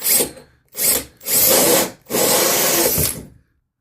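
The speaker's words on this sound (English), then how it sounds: "So here I'm just going to drill a hole, kind of ish." Power drill boring a hole through the front wall of an RV, four loud bursts of whirring, the first two short and the last two long, with brief pauses between, close by and with no talk.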